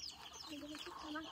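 Desi chickens cluck softly in a short burst of low, chattering calls, faint and close, mixed with slight background murmuring.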